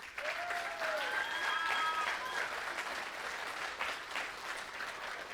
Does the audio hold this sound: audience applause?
yes